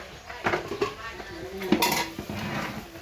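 Mushroom curry from a pot being poured out into a basket-like container, with clanking metal pot and utensil knocks and scraping at close range, mixed with background voices.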